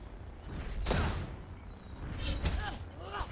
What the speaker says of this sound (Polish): Zauważyłeś taki głośniejszy e, odgłos jak atakujesz? To chyba są krytykale.